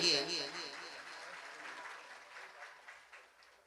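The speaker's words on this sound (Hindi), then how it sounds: "एक बार जोड़ ताली इनके लिए भी होनी चाहिए।" Audience applause for a sponsoring family at a Shrimad Bhagwat Katha religious gathering in Narendra Nagar, Sonipat, loudest at the start and then thinning to a softer patter that trails off, with no one speaking.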